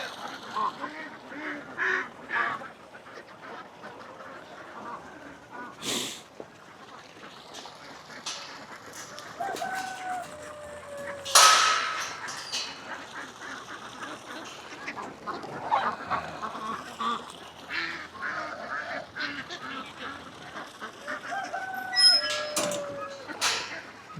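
Ducks quacking and geese honking on a ranch during morning chores, a busy flock calling repeatedly at close to middle distance, with a person talking over the birds.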